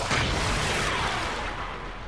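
Explosions from Hydroid Prime's powers in Warframe: a loud, dense burst of booming, crashing impact noise that fills the moment and then slowly thins out, with no talking.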